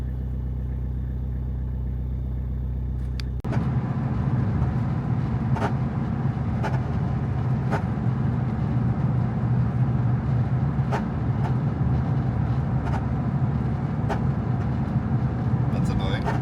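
A car towing a tiny camper on a long road trip, its steady road roar and low engine rumble starting suddenly after a quieter moment and continuing loud and even throughout.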